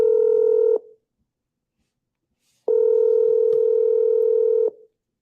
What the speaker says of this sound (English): while I'm dialing.